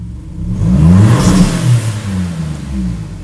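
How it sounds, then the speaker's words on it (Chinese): A Maserati MC20's 90-degree Nettuno V6 engine revs loudly, rising to a roaring peak around 5000 rpm and then settling into lower, throaty revs, with no talking. "这个90度的 Nettuno 海王星 V6 引擎"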